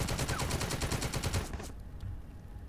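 Rapid machine gun fire in The Troop, a tactical war video game, rattles in a loud, fast burst for about a second and a half before cutting off abruptly, leaving a quiet tail.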